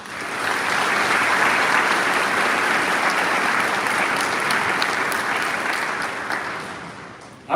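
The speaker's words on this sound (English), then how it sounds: "Please join me in a round of applause for our platform guests." Sustained applause from a large audience at a Georgia Military College commencement ceremony, dense steady clapping that fills the hall, then tapers slightly near the end.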